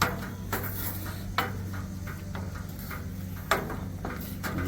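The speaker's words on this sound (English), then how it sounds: "I'm going to keep stirring it a little bit." Cowboy candy simmering in a pot while it is stirred, giving a low steady bubbling hum marked by a few sharp utensil knocks against the pot rim, close and without talking.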